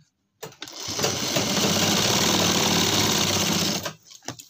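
An electric sewing machine stitches a pajama pocket in one sustained, close whirring run lasting a few seconds, starting abruptly and stopping with a few small clicks afterward.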